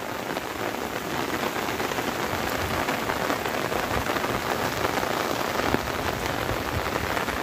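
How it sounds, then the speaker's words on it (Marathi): Steady heavy rain pours down in a rural Konkan countryside setting during a monsoon storm, a dense continuous hiss with faint thunder rumbling beneath, no voices over it. "पावसाचा सुद्धा मस्त आनंद घेत आहोत, एकदम निसर्गरम्य वातावरणात। विजांचा चमचमाट आहे, ढगांचा गडगडाट आहे"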